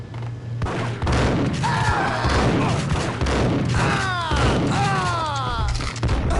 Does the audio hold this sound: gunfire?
yes